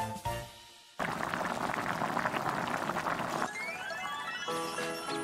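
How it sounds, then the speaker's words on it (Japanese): A whole cabbage simmers in a lidded pot of butter, water, consommé and canned tomato, giving a steady close bubbling and hiss that runs throughout, with some clinking and a brief tonal sound near the end. "蓋をして30分間煮込みます。"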